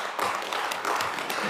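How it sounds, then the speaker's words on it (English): Applause in a council chamber: a brief stretch of moderate, steady clapping from the room. "I think they're applauding you."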